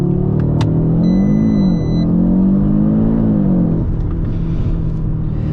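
A 2025 Audi RS3 accelerating hard from a standstill to 60, heard from inside as a loud, deep engine drone that rises and dips with the gear changes, then eases off.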